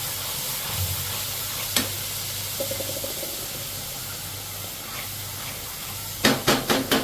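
Masala fries in hot oil in a kadhai with a steady hiss and sizzle, broken by a few faint clinks and scrapes near the end.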